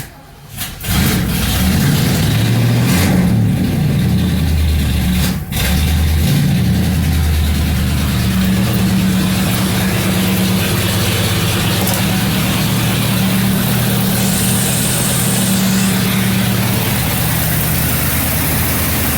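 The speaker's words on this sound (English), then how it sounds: "Running pretty good. Motor sounds pretty nice. Sounds healthy and everything." A 1977 Mercury Marquis with a 400 engine runs after a tune-up, a loud close steady rumble that starts abruptly and holds an even idle throughout, with a brief dip partway.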